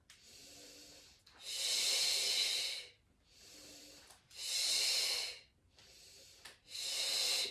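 Deep breathing during a Pilates exercise: slow alternating inhales and forceful hissing exhales, about three full cycles, loud and close with brief pauses between.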